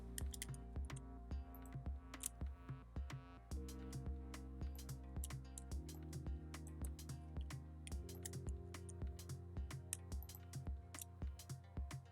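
Keys are pressed on a Mac keyboard in a run of light, quick clicks, some spaced apart, over a sustained background tune.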